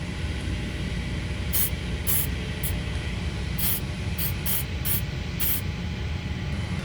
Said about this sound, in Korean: 나사를 풀기 쉽게 WD를 너트 있는 부분에 뿌려줍니다